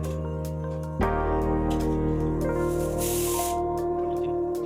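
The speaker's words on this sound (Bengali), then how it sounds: "জল দিয়ে ফুটিয়ে ভেজে রাখা মাছগুলো দিয়ে দিলাম।" Fried fish dropped into boiling mustard gravy in a Bengali kitchen, a sudden sputtering splash followed by steady bubbling and hissing simmer, close and fairly loud with no talking.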